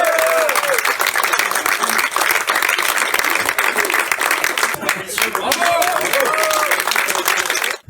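Dense, loud applause from an audience fills the whole stretch at a Blood Bowl tournament award ceremony, the Cognac Bowl 2021, with clapping sustained steadily until it cuts off at the end.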